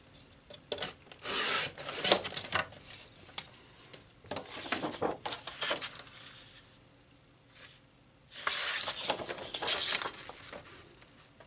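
Paper being trimmed for a page-map craft project, giving rasping, rubbing cuts in several close bursts with quieter gaps between, without talk.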